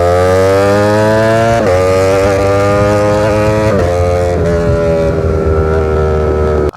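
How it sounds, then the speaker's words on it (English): A Ducati Streetfighter V4S with a titanium SC-Project exhaust runs loud and close, a deep throbbing rumble punctuated by several quick throttle blips that rise and fall over the steady idle. "let's get this thing started. Sounding real good."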